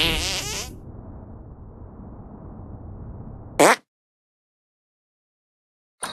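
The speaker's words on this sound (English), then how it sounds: "Make your fart detonate behind me." Cartoonish fart blast from the South Park: The Stick of Truth video game, a short loud burst near the start trailing into a low rumbling hiss, then a sharp crack and silence before another brief hit at the very end.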